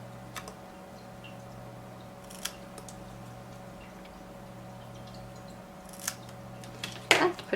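Scissors trimming a paper card sentiment for a Copic-coloured greeting card, a few soft, close snips scattered over a quiet background, ending in a sharper crisp cut.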